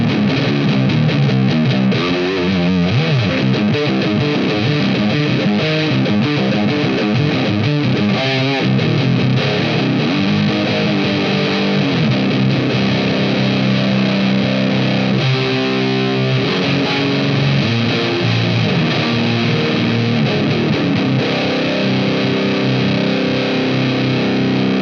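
An electric guitar plays through a Nux Recto overdrive pedal with gain raised, gritty distorted chords and riffs ringing out continuously with a faint hiss underneath.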